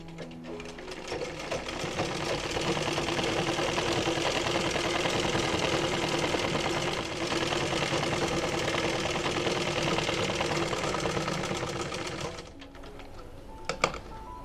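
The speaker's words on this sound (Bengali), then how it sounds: "তো আমি ভিতরের দিকে আরো দুইটা সেলাই দিয়ে দিচ্ছি, যে সাইড থেকে সেলাইটা করব" A sewing machine runs steadily for about twelve seconds stitching elastic into ladies' pants, a close, continuous whirring rattle that stops near the end, with no voice over it.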